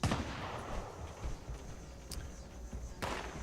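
Gunfire in the video game Fallout 76 during a Black Powder Day event: muffled, boomy shots and thuds at a distance, with a couple of sharper cracks standing out from a rumbling background.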